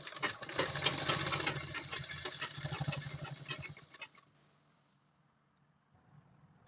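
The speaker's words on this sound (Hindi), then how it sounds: "ये देखिए मैंने अभी इसे अटैच करके एक पाइपिंग टाइप में यहाँ स्टिच लगा दिया है।" A sewing machine stitches piping onto a tote bag made from fabric scraps, running steadily and fairly loud for about four seconds before stopping, leaving quiet background hum.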